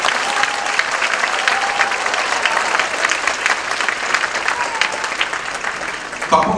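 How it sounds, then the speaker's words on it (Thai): A large outdoor audience at a 2016 Suphanburi local folk singers' concert claps loudly and steadily for several seconds, a dense continuous roar of hands that breaks off abruptly at the end. "ปรบมือดังๆให้เกียรติกับตำนานทุกท่านครับ"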